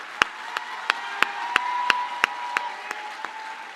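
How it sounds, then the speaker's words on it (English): Sparse clapping at a Reginald F. Lewis High School 2025 graduation ceremony: about ten sharp, evenly spaced claps in a steady beat, close and fairly loud, over a faint sustained tone. "Let's give 2025 a round of applause."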